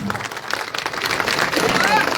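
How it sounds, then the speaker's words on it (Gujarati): A crowd claps loudly at a political rally for a local self-government election in Thangadh, Gujarat, a dense, continuous burst of applause that fills the short stretch, with a voice over it. "જોરદાર તાળીઓથી કરશન બાપુને વધાવીએ."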